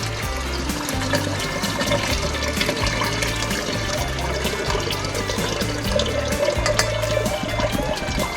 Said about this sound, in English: Now we add the grain to our wort. So just pour it straight in.